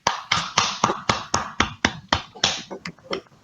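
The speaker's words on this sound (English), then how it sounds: "So let's applaud them," Applause for mentors and jury members at a Datathon 2020 awards ceremony: a small group clapping in distinct, fairly regular close claps, crisp and sharp, with almost no voices.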